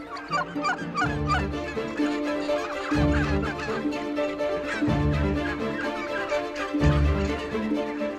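Free-range turkeys at a farm with a polytunnel field shelter call and gobble in overlapping bursts, fairly close, over a rhythmic low rumble, with no talking.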